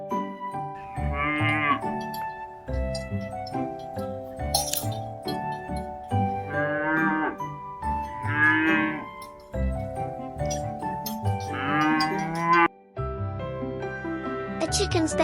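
Cattle on a farm mooing several times in long, drawn-out calls, loud and close, with a rhythmic backing of music and clinking percussion running throughout.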